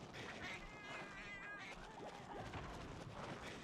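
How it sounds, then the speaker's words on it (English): Angry-looking cats meow in the video game Monster Hunter 4, a few short wavering cries over busy game music and ambience, with faint talk in the background. "A whole lot of angry looking cats over here."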